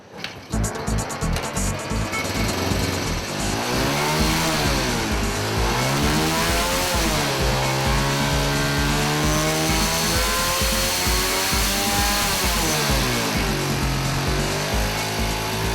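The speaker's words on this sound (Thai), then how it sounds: "เพราะที่เขาเร่งเครื่องอย่างนี้ ก็เพื่อจะทด สอบให้เราเห็นถึงประสิ" A motorcycle engine fitted with a VVL fuel-saving cam revs hard and steadily, its pitch sweeping up and down in repeated loud surges after a sputtering start, close and continuous.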